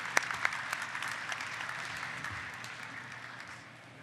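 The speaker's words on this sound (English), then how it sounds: "I'd like to join me in a round of applause for Daniel Rice III" Audience at a conference applauding a speaker coming to the stage, a few sharp early claps swelling into a steady round that gradually fades toward the end.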